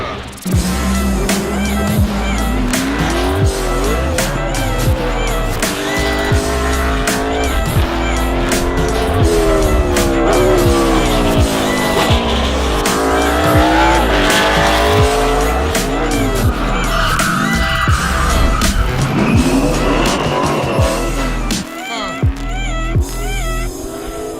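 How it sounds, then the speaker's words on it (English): A NASCAR stock car driven hard on a racetrack, its engine revving up and down through gears with sweeping pitch changes and bursts of tire squeal while sliding, loud and close throughout. "me driving the Nascar for the first time"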